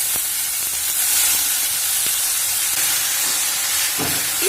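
Chopped greens sizzle and hiss in a hot pan with onion and garlic, a steady close frying sizzle with a few soft clinks of stirring, no talk.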